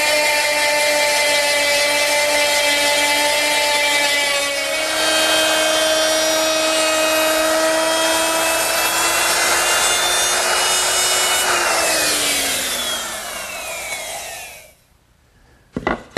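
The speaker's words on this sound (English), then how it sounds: "now I'm going to mill the corresponding edge of the leaf with a 3/8" cove bit" A router with a 3/8-inch cove bit mills the edge of a wooden harvest table leaf, a loud sustained high whine with a grinding cut that drops in pitch and winds down to near silence at the end.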